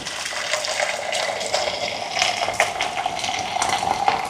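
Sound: pouring hot water

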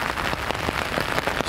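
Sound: heavy rain falling

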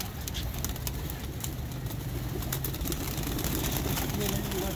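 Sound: pigeons coming down to land

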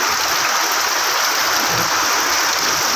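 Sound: heavy rain

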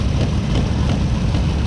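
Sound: restored Royal Enfield motorcycle engine running

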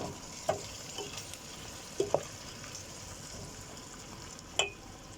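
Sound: rice and chickpeas being sautéed in a pan

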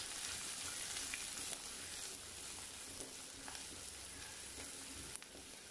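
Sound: chopped onion sautéing with cumin in oil

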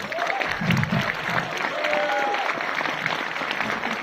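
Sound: audience applause at trailer launch

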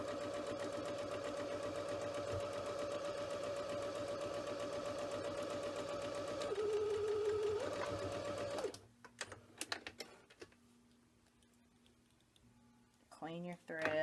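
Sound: sewing machine stitching along a fabric edge

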